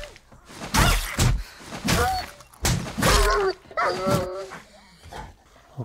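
Zombie dog in 7 Days To Die barks in a series of loud, close bursts mixed with heavy thumps and crashing hits during an attack.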